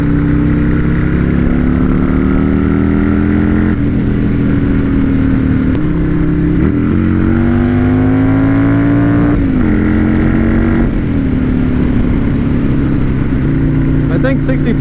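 A Buell S1 Lightning motorcycle accelerates hard through the gears, its loud V-twin note climbing in pitch, dropping at each shift, then climbing again in repeated sweeps, with heavy wind noise throughout.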